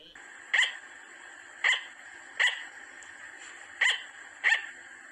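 Five short, high-pitched yapping barks from a sugar glider, spaced irregularly, each sharp and brief, over a faint steady background hum.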